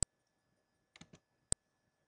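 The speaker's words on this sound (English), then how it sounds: "Then, we are going to click on Menu." A computer mouse clicks while navigating restaurant point-of-sale software: two crisp, isolated clicks with a small cluster of softer taps between them, quiet and close.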